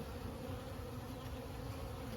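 A dense, steady buzz from bees at an open hive during a sunset inspection on a farm, a thick, continuous hum with no voices.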